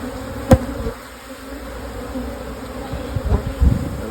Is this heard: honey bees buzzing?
yes